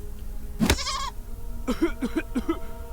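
A goat in the video game Deponia Doomsday bleats close and loud, one long wavering bleat followed by a quick series of shorter stuttering bleats, with no talk.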